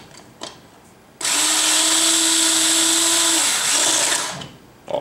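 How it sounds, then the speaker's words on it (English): An electric screwdriver whirs steadily for about three seconds while driving a screw into a swing-arm lamp, loud and close, with small clicks and handling noises before and after. "I can't even imagine the days without these screwdrivers."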